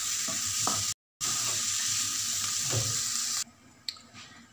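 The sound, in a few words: stirring meat and onion stew in a tagine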